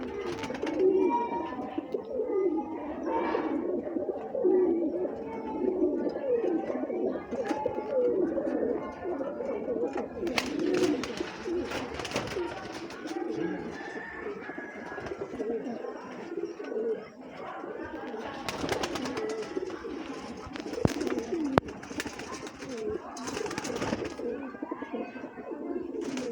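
Golden pigeons coo and flutter steadily in an enclosed room, their low cooing continuous throughout, with occasional wing flaps and someone talking over them.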